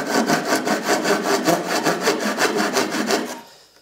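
Japanese-style thin-bladed hand saw, about half a millimetre thick, cutting through wood in steady rapid strokes, each rasping pass close and loud, before stopping abruptly near the end.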